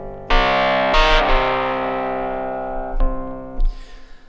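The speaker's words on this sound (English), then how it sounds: "And now we're hearing that amp simulation working on the DX7 sound." A Yamaha MONTAGE DX7 electric-piano-style sound runs through amp simulation, giving a loud, gritty, distorted sustained chord. New notes are struck at the start and several times later, each swelling out of the ringing drone.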